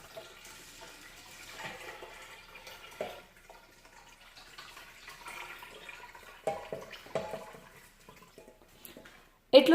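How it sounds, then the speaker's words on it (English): Tap water is poured slowly into a 3.5-gallon Topfin aquaponics aquarium, giving a faint, steady trickling wash with soft splashes. Scattered handling knocks and a louder clatter at the end break through it. "add water very slowly."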